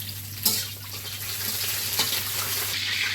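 Whole garam masala spices and a bay leaf fry in oil, giving a soft steady sizzle with a couple of sharp crackles, close and fairly quiet.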